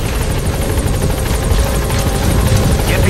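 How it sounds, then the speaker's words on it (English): A helicopter touching down in Metal Gear Solid V: The Phantom Pain, its loud, close rotor thumping steadily alongside a constant engine whine and rushing wind, with no voices. "the chopper's touching down"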